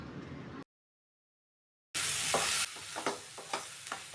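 Onions and tomatoes sauté in a pan for egg curry, a close hissing sizzle with scraping stirs, cut by a stretch of silence before the frying returns.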